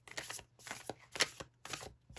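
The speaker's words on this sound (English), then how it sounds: "Still trying to shuffle this big fat deck." A big, thick deck of tarot cards is shuffled up close, giving several quick, soft riffling and slapping bursts in a loose rhythm, quiet and alone.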